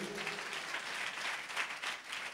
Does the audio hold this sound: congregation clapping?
yes